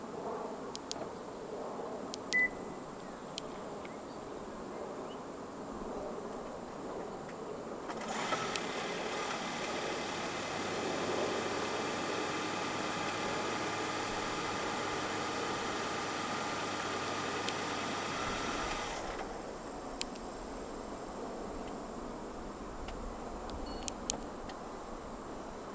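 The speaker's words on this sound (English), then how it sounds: "The City RS in Malaysia does come standard with a remote engine start system." After a quiet stretch a 2023 Honda City 1.5 e:HEV RS engine starts by remote start and idles with a steady low hum for about ten seconds, then shuts off, leaving quiet again.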